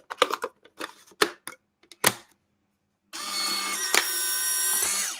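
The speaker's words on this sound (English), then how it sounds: "Did you hear the sound the camera just made?" A Polaroid camera has a film tray loaded, giving a few sharp clicks and snaps followed by a few seconds of steady whirring mechanical motor noise with a brief click inside, close by and fairly quiet.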